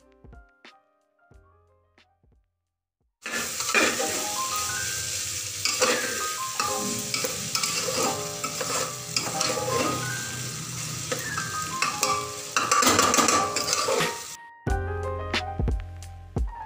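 Dal stir-frying in a pan with salt, turmeric, sugar and vinegar, a dense, loud sizzle with frequent scraping strokes of a spoon close by, framed by quieter tonal music at the start and end.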